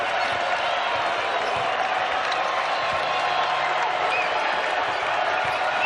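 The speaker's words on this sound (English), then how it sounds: "Oh, the crowd is feeling it too." College basketball arena crowd at a Colorado State versus Boise State game, a dense, sustained roar of cheering filling the space, with faint commentary talk underneath.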